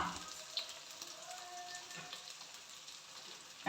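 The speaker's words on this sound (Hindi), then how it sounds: "लहसुन अदरक फ्राई हो चुका है।" Garlic and ginger paste fries in a pan for a sour eggplant dish, a faint, low, steady sizzle with a couple of light utensil taps near the start and end.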